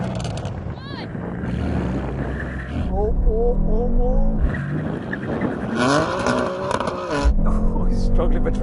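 A rear-wheel-drive estate, either a BMW M3 Touring or an AMG C63 S Estate at a drag race, squeals its tyres in wavering bursts while the engine revs loudly nearby. Someone talks over the sound throughout.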